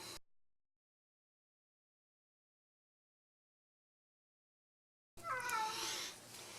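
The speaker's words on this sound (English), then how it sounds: "The cat's meowing." A house cat meows: one short call at the very start, then silence, then a louder, drawn-out meow near the end, close and alone.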